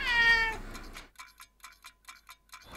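A pet cat meows in a short harmonic call up close, followed by a run of soft, evenly spaced ticking clicks against a quiet background.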